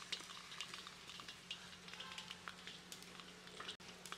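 Mustard seeds for tempering crackle and sizzle in a small amount of hot oil, a close, steady frying hiss dotted with sharp little pops, with faint stirring and no voices.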